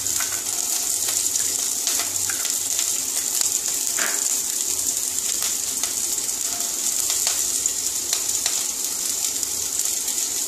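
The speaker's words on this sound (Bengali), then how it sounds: "এবারে গাজর বিনস সব একসঙ্গে দিয়ে দেবো" Carrots, beans and capsicum sizzle steadily in a pan while cooking kaon (foxtail millet) rice pulao, a continuous bright crackling hiss with brief sharper pops.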